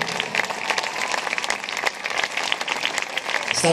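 A concert crowd at Città Spettacolo 2021 breaks into dense, sustained applause, many hands clapping close and loud throughout.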